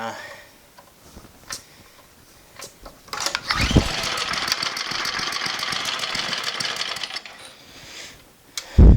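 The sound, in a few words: MTD snowblower engine running then dying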